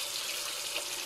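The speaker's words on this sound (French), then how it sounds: "Donc j'ai fait couler mon robinet." Hot water running from a kitchen tap, a steady, close hiss of flowing water with no talking.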